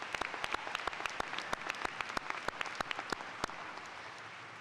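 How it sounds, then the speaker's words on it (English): Applause from a commencement audience at Glen Burnie High School, honoring the staff who planned the ceremony: a steady wash of many hands clapping at moderate distance, with sharper individual claps standing out, and no talking over it. "Please give them a round of applause."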